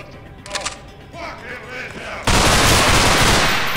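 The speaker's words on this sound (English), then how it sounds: "Not with that man shotgunning everything around me." Shotgun fire in the game Underhell erupts abruptly midway, a loud, dense burst of blasts that carries on to the end, following a quieter stretch with faint vocal sounds.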